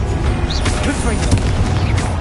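A Confringo fire spell bursts in Hogwarts Legacy, a dense, rumbling explosive blast with crackling debris that fills the scene steadily, with a voice audible over the din.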